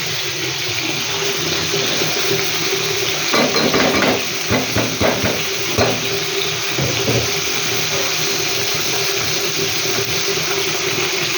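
Leafy greens hitting frying onions in a pan, giving a steady loud sizzle throughout with a cluster of stirring scrapes and clatters in the middle.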